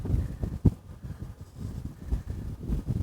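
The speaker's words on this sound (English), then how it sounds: "Man, it is just crazy windy out here." Strong gusty wind outdoors buffeting the microphone, low rumbling bursts rising and falling irregularly with no voices.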